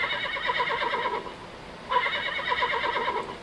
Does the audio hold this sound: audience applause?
no